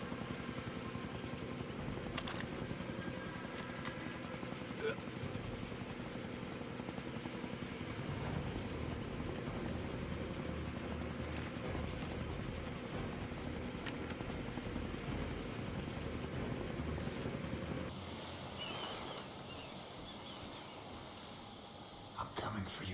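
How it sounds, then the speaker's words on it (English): Helicopter rotor and engine drone in a video game, a steady loud chopping wash running throughout under occasional game sounds before thinning out near the end. "Helicopter."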